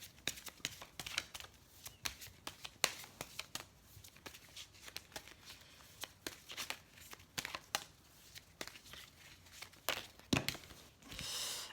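Oracle cards are handled and shuffled on a table in a run of close, soft crinkling riffles and taps, irregular and fairly quiet, with brief pauses between bursts.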